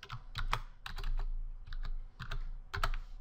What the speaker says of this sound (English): I will type lookup in the search for a function text box.